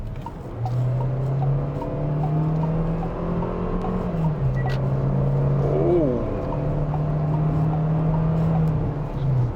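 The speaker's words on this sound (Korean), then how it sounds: "잠깐 풀악셀을 하면서 가속을 해봤는데 소리는 앞에서 꽤 올라오고요." A 2024 KGM Actyon S9 accelerates at full throttle, heard from inside the cabin as a steady engine drone that climbs and drops through gear changes, loud and continuous.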